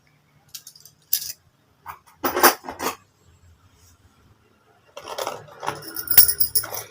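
Clay bangles are handled and knock together, giving scattered light clinks and short jangling clusters between quiet pauses, with a longer busier rattle toward the end.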